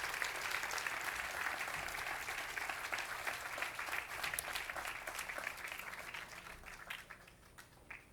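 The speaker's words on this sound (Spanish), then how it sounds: "Por favor, un aplauso cuando quieras, Josu." Audience at an awards ceremony in Sopela applauding steadily, a dense wash of clapping hands that holds for several seconds and then thins out toward the end, heard fairly faint and at a distance.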